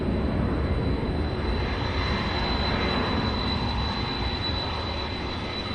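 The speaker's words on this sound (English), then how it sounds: "Nice takeoff there by Delta." A Delta jet taking off at Louisville's SDF airport, a steady, loud roar of jet engines that stays constant and fairly close, with no voices.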